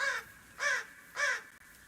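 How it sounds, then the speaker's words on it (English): A crow caws three times in an even rhythm, clear and fairly close, with quiet background between calls. "I just heard a crow cough."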